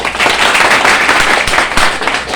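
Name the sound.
audience applause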